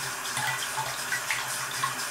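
Tap water runs steadily into a sink while a makeup brush is rinsed of suds, a close continuous splashing stream with small irregular spatters.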